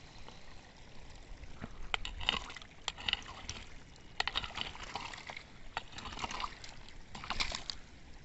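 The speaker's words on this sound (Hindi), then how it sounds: "यहाँ से सड़कों के कितना पानी जा रहा है।" Rainwater runs across a road damaged by a landslide, heard as faint trickling and sloshing with scattered splashes and bursts of flow rising and falling over several seconds, some quiet talk underneath.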